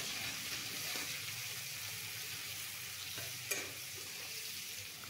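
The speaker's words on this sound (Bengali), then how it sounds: "এবার কড়াইয়ে সর্ষের তেলে কালো জিরে ফোড়ন দিয়ে ড্রাই ফিশগুলো দিয়ে দেব।" Dried prawn fish frying in mustard oil with black cumin makes a soft, continuous sizzle in a wok, with one brief clink of stirring near the end.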